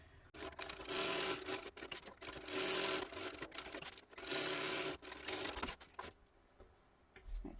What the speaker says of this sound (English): I back stitch well at the top here because I will be going into it